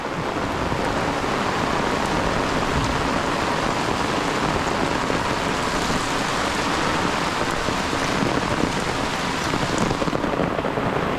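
Heavy rain pours steadily and loudly on a garden, a dense unbroken hiss of drops hitting surfaces, with no voices over it.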